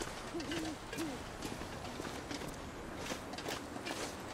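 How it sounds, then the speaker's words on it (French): A bird, heard as an owl-like hooting call, in The Long Dark survival video game at night, a few short hoots early on, faint and distant over windy background and soft footsteps. "Gueule pas comme ça, l'oiseau."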